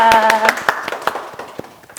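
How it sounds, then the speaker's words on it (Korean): Studio staff clapping, a handful of distinct claps that start over a brief sung or hummed tone and then thin out into sparse, fading claps. "자, 박수 쳐드리겠습니다"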